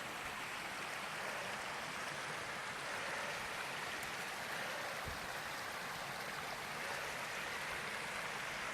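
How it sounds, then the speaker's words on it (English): A stream runs along a lakeside hiking trail near Watauga Lake, giving a steady, even rush of flowing water throughout, broad and continuous with no voices. "I have a feeling this water's running a lot better than it was last week."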